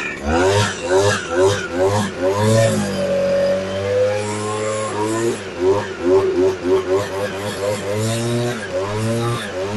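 A Stihl hand blower's small two-stroke engine is pull-started and revs up, with a rhythmic rasping engine note that rises and falls close by while someone talks over it.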